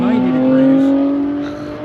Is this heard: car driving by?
yes